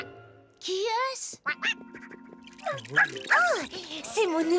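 A cartoon duck gives several short, nasal quacks, close and fairly loud, mixed in with animated character voices talking and exclaiming over it.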